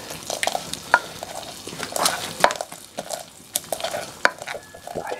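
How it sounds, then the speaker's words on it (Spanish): Garlic crushed with a pinch of salt in a mortar for an ajillo picada, heard as a series of irregular close knocks and grinding scrapes with short pauses, over quiet background noise and no talk. "A esto le ponemos un poquito de sal para que nos hace y lo machacamos"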